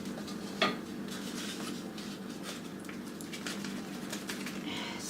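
A spoon stirs Sure Gel pectin into dandelion jam in a pot, with soft scraping and light clinks against the container and one sharper knock near the start, close and fairly quiet without speech.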